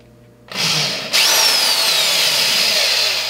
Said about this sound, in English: I'm going to take my drill. I have an 1/8 inch drill bit in here.